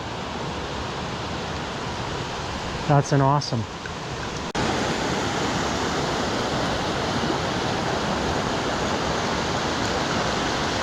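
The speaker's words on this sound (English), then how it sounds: "3 waterfalls joining into one." Three waterfalls merge into one, making a loud, steady broadband roar that fills the whole scene; a short spoken remark rises briefly over the rushing water early on.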